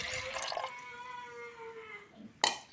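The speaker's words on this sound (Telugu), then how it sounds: "ఇలా కుక్కర్లో వేసుకున్న తర్వాత ఉడికేదానికి సరిపడా వాటర్ పోసేసుకోవాలి." Water pours into a pressure cooker holding soaked lentils for mudda pappu, a close gurgling stream whose pitch rises as the vessel fills, ending with a short metallic knock.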